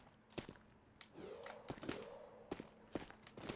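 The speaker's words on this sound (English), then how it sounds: "Yeah, the new footstep sounds are just so nice." Player footsteps in the video game Momentum Mod land as a steady run of crisp, close thumps, with a brief voice sound in the middle.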